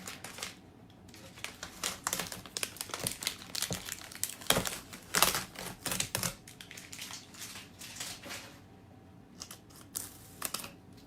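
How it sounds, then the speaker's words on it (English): A paper stencil is peeled off a painted truck, giving close, faint bursts of crinkling and tearing in uneven spurts, with no talking. "just start in a corner and peel your stencil off"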